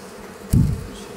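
A swarm of honeybees clustered on a shrub gives a short, close burst of dense low buzzing that swells suddenly and then fades, with no voices.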